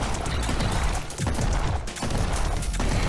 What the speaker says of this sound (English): Shotgun upgrade greatly increases the firing speed of the shotgun.